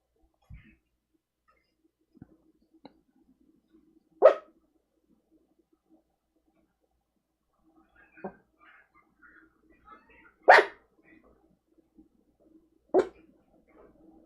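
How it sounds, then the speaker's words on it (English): A pet dog indoors lets out a few sharp, separate barks spread over several seconds, with near-silence between them and faint small noises in the gaps. "Lola, what are you barking for?"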